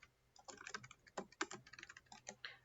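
Rapid, uneven typing on a computer keyboard, a run of close, quiet key clicks and clatters with no talk, while entering text for a community group in Go High Level.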